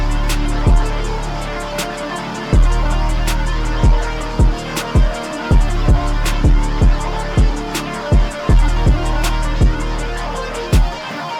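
A full song mix of snare, kick, hi-hat, 808 bass and electric lead guitar, with a booming low end and sharp, steady drum hits under dense, continuous distorted guitar throughout, no talking.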